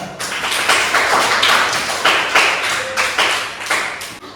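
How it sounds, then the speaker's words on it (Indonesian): Classroom students clap for a classmate who answered a question, a fairly small group giving a close, uneven patter of hand claps that pulses in short bursts. "Beri tepuk tangan semuanya"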